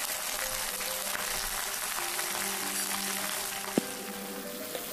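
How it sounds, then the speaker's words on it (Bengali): Whole flat beans sizzle steadily in a pan with salt, a soft continuous frying hiss with faint stirring clinks, no talking. "এবার নুন হলুদ দিয়ে আমি শিমটাকে একটু হালকা ভাজা ভাজা করে নিচ্ছি।"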